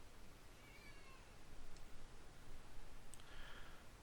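A cat meows softly indoors, a few faint, short calls spread through a quiet background hiss with no speech.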